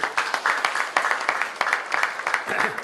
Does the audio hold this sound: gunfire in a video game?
no